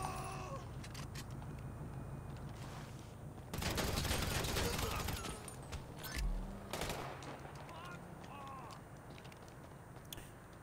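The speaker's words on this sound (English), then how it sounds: "I heard a gunshot then, but I don't know where it came from." Bursts of gunfire crackle in a busy GTA 5 Online scene, a dense volley in the middle followed by a few sharper single shots, over steady background noise.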